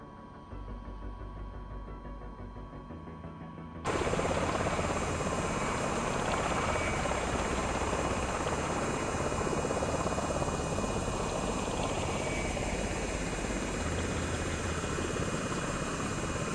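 Aircraft engine in Microsoft Flight Simulator 2024 rising to a loud, steady broadband roar as it takes off over the Grand Canyon, after a quieter idling hum; the roar holds constant and close for the rest of the stretch, with no talking.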